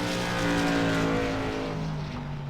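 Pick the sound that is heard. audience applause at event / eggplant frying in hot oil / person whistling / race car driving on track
race car driving on track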